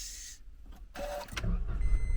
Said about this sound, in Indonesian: kita sekarang dengarkan suara mesin mobilnya guys